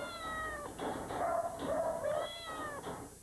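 A cat meowing at an animal shelter in Québec, several drawn-out, wavering meows in succession with short gaps, fairly close and clear against a quiet background.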